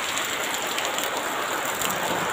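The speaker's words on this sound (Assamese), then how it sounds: "বৰষুণ কিমান পৰিছে, ইয়াত চাওক" Heavy rain pours down in Hojai district, a dense, loud, close-up hiss of falling water that stays constant throughout.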